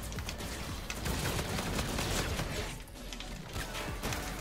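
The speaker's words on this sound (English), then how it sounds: "Oh, this is a shotgun." A shotgun blasts repeatedly in a first-person shooter video game, dense rapid bursts of loud gunfire crowding together with almost no pause.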